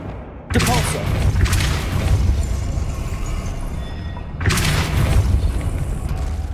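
A Depulsor spell fires in Hogwarts Legacy, landing as heavy booming thumps, one early and another near the end, over a dense, rumbling combat soundscape.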